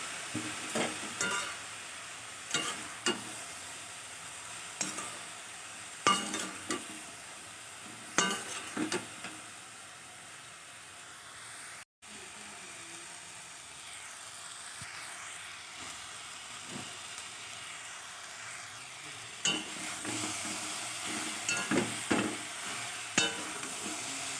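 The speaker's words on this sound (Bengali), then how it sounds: "তো এখন একটু লবণ দেবো দিয়ে হালকা করে একটু নেড়ে চেড়িয়ে বাঁধাকপিটা আমি একটু ঢাকা দিয়ে রেখে দেবো" Salted cabbage cooks in a pan with a soft, quiet sizzle, broken by scattered scraping stirs and clinks, some clustered in short bursts, near but faint and without talk.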